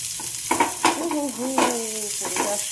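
Whole cumin seeds crackle and sizzle in hot oil in a home kitchen, close and steady, with a few sharp pops and squeaky stirring scrapes through the short burst.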